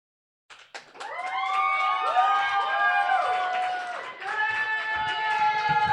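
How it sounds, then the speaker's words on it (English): A poetry slam audience erupts after a poet's piece, with loud cheering, whoops and shouts over scattered clapping, building quickly from silence and sustaining for several seconds. "Keep that applause going for the poet"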